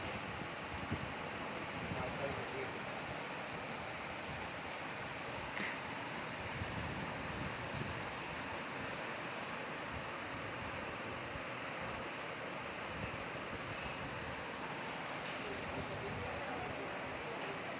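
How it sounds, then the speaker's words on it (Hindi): Strong gusting wind blows steadily and close to the microphone throughout, a dense rushing roar with buffeting as a storm rolls in. "आने की खुशी में हवा चल गई, आंधी आ रही है, आंधी आ रही है।"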